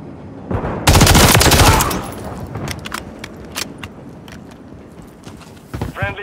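Dense bursts of automatic gunfire in Call of Duty: Modern Warfare 3, with a loud sustained volley early on followed by scattered single shots and short bursts, plus a brief mechanical rattle near the end.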